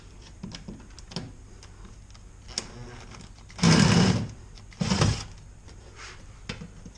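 Screws are backed out of the front bumper of a 2015 Vauxhall/Opel Corsa with a T20 driver, giving faint scattered clicks and scrapes of the tool and two louder, longer bursts of whirring near the middle.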